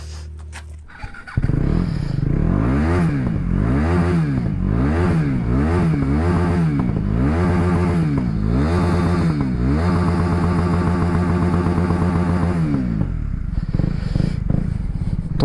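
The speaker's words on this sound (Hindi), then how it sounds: "अभी पहले बाइक निकालते हैं, उसके बाद निकलते हैं आगे की तरफ।" A motorcycle on the way to Budha Kedar temple in Tehri Garhwal, Uttarakhand, starts and runs steadily up close, its engine revving up and down repeatedly with rising and falling pitch before settling and cutting off near the end.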